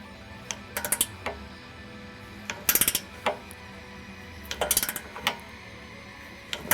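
A torque wrench tightens nuts on a 2005-2014 Mustang transmission cooling scoop, giving rapid ratcheting clicks in several short clustered bursts with quiet gaps between them, close and fairly loud.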